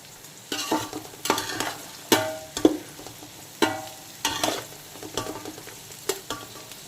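Chopped beans stir-fried in hot oil, a steady sizzle broken by rhythmic spatula scrapes and tosses roughly every half second, close and clear.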